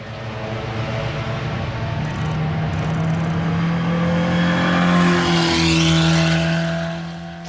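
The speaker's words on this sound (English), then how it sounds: "the cars have come round Surtees Corner and then accelerated away down towards the Pilgrims Drop" Historic race cars at Brands Hatch accelerating away from Surtees Corner toward Pilgrims Drop, a loud rising engine roar that swells as the cars pass close by, then fades slightly at the end.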